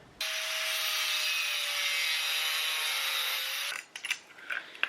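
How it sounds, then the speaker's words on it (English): An angle grinder cuts the tabs off a PVC ram pump check valve that has worn over four years. It whines in one loud, steady burst of under four seconds, stops, and is followed by scattered clicks and rattles of loose pieces. "Maybe I'll take the angle grinder and pop all 4 of these little tabs out of here."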